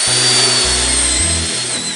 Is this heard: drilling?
yes